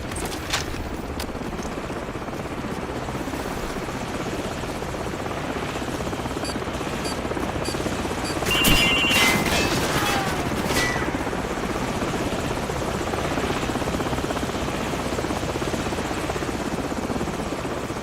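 Enemy helicopter in the Call of Duty: Modern Warfare campaign, a steady rotor drone that holds loud and unbroken throughout, with a brief brighter burst midway.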